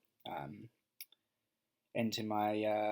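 Left button of a computer mouse clicked during work in Google Slides, a quick double click heard close and crisp in a pause between stretches of talking.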